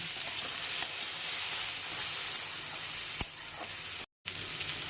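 Okra frying in a pan, giving a steady, fairly quiet sizzle throughout, with a few light clicks as it is stirred and a brief dropout near the end.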